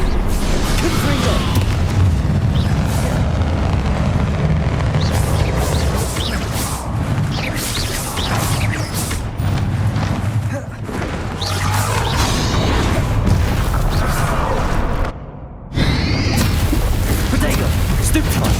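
Repeated Confringo blasting-spell explosions in Hogwarts Legacy on PS5 during a fight with Ranrock, booming and crashing loudly and almost continuously, with brief near-silence before the din resumes.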